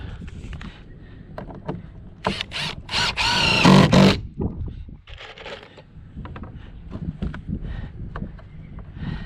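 Screws are driven into the wooden gambrel truss of a playhouse, a loud whirring burst of a power driver lasting a couple of seconds amid scattered knocks and handling noises close by.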